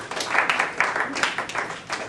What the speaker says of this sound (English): So let's give Vanessa a round of applause for being such a good sport.